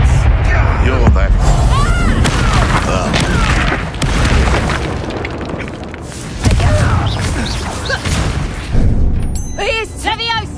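A Confringo fire-blast spell in Hogwarts Legacy detonates with heavy booming explosions that repeat through the fight, loud and close, mixed with shouted spell casting and game voices.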